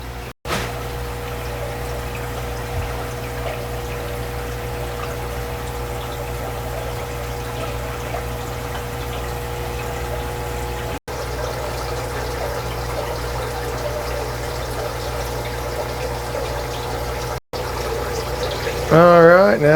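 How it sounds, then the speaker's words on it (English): Water drains steadily out of a planted pleco aquarium with a constant low pump-like hum and trickle, quiet and unbroken, with a brief clatter near the end. "now we got the water about as low as I want to get it, still draining out"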